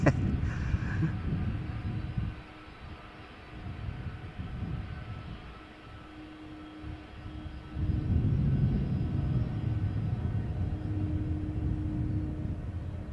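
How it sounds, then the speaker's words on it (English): Delta Airlines Airbus A330 jet taking off at Schiphol's Polderbaan runway, a steady low engine roar that dips briefly and then swells louder again, heard from a distance with no talking. "Delta Airlines A330"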